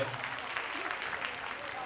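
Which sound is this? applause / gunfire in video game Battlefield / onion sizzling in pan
applause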